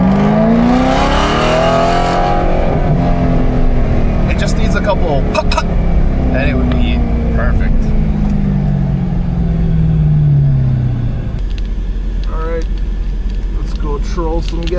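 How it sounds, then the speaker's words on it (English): BMW E92 M3 track car on a race track, its engine revving loudly and close with rising and falling sweeps that echo off a nearby wall, continuous throughout, while someone talks over it. "I just want you to hear the audio that I'm hearing from this car"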